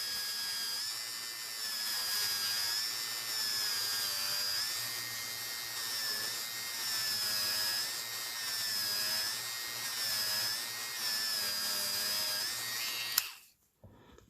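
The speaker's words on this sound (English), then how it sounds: "that's all I did with the Dremel, and this is just a regular Dremel plug-in" A corded Dremel rotary tool sands a lump off stone-effect polymer clay with a steady high whine that wavers slightly under load, running close for about thirteen seconds before cutting off abruptly.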